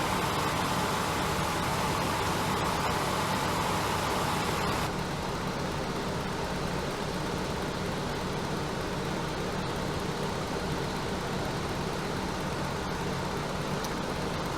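A car engine idles during an electronic throttle functional test, with idle speed set to 500. A steady, broadband hum holds throughout and shifts slightly in tone about a third of the way in. No voices are heard.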